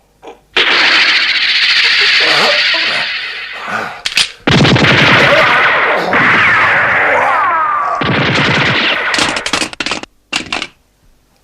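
Animated battle scene with gunfire: loud bursts of rapid shots and sharp cracks fill most of the stretch, broken by short pauses, alongside voiced shouting.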